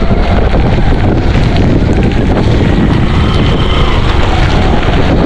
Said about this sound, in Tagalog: Ay, grabing hangin yan